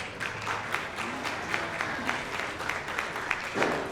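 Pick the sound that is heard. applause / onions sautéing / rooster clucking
applause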